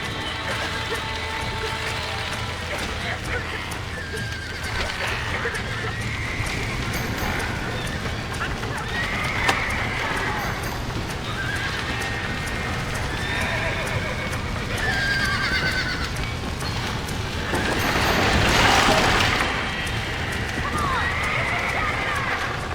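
Horses whinny repeatedly over a busy, continuous background with hoofbeat-like rumble, one louder neigh standing out near the end, in the video game Red Dead Redemption.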